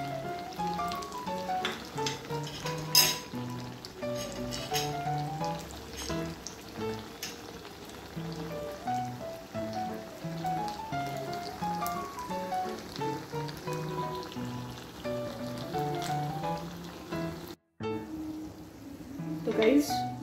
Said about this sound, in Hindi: वड़ा बहुत ही अच्छे से तल चुका है